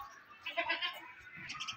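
Goats bleating at a goat farm, a loud nasal bleat near the start followed by a shorter second call, close by with faint background noise.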